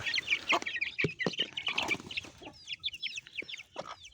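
Young chicks and a young rooster in a coop, soft high peeping and scattered clucks with some rustling, close but quiet and continuous.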